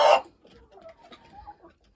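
Hens crowded together in a cramped coop on a frosty winter day: one loud squawk opens, then soft, scattered clucks and murmurs follow close by.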